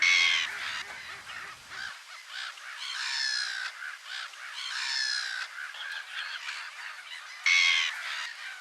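Birds call repeatedly along a shoreline of water and mudflats, with harsh squawking cries that may come from great egrets, holding steady at moderate loudness throughout with brief louder bursts.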